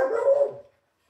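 A single dog's bark, loud and close, lasting about half a second and then going silent, with no voices.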